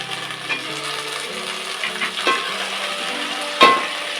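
Eggplant pieces sizzle and fry in a pan of onions and cashews for vangibath gojju, a steady crackle broken by a few sharp scrapes and clinks of the stirring spoon, close and continuous with no talking.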